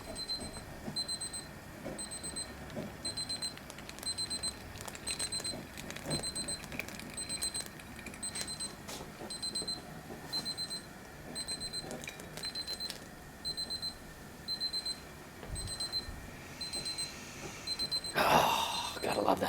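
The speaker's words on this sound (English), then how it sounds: "Okay, timer's going off." A kitchen timer alarm beeps in a steady repeating pattern through a homebrew beer boil, pulsing regularly for the whole stretch over a constant low rumble of the burner and pot, with faint background voice.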